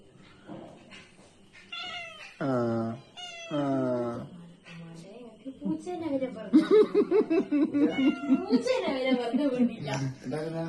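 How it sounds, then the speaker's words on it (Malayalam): A cat waiting to be fed near a kitchen where fish majboos is being served meows several times in long, drawn-out calls, then lets out a rapid run of chattering cries, close to the microphone, with voices around it. "നമ്മളെ മജ്ബൂസിന് കാത്തിരിക്കുന്ന പൂച്ചയാണിത്"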